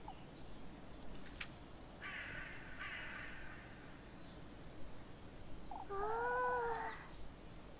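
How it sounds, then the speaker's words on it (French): Crows caw in the video game Little Goody Two Shoes, with a few harsh calls over a steady background hum and one louder, clearer caw near the end. "Oh, il y a tellement de corbeaux."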